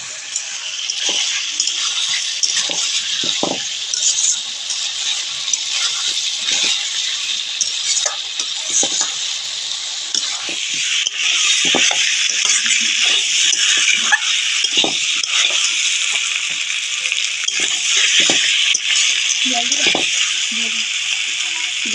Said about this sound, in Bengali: ভেজে রাখা আলুগুলো দিয়ে মশলার সাথে ভালো করে আমি কষিয়ে নেব।